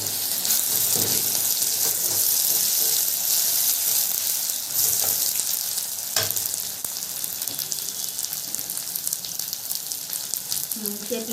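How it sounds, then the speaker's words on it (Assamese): Tomato fries with coriander powder, red chili powder and turmeric in a pan, a dense continuous sizzle with occasional stirring scrapes and clinks throughout, close and fairly loud. "এতিয়া বিলাহীটো অলপ ফ্ৰাই কৰি দিম"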